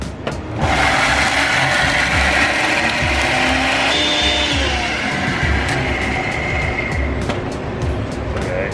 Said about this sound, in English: Peppercorns in the grinder.